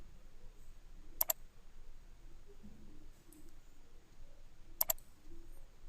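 Computer mouse clicks while drawing curves in vector software, two quick double-clicks a few seconds apart, crisp and close over a quiet room hum.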